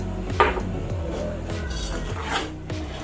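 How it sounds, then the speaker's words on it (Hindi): A spoon scrapes and knocks against a pan while semolina roasts in ghee, producing a few short, close scrapes over a continuous low background. "घी में हम इसको भून रहे थे"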